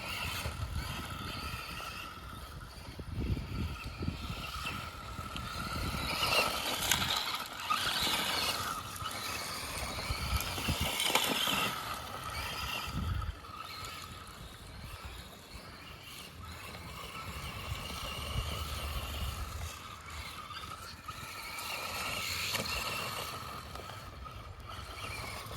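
Tamiya Boomerang radio-controlled boat running at full throttle on water, a thin high electric whine that rises and falls as it passes, distant and fairly faint over steady outdoor background.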